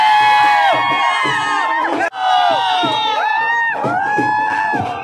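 A dense crowd gathered around Prafull Billore in Prayagraj, with loud overlapping shouts and whoops close by that keep going almost nonstop and drop out only for a moment.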